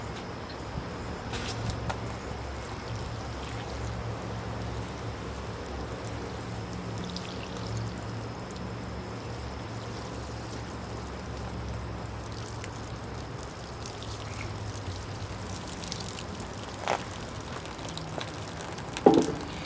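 Water is poured over the stones of a bonsai penjing planting, a steady soft splashing and trickling that runs for most of the stretch at close range, with no voices.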